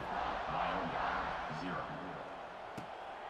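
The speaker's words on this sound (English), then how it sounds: "this crowd now ready to get behind them" Stadium crowd noise in a college football video game, a Georgia Southern dynasty mode, a steady broad roar from a large crowd running continuously under a commentator's voice.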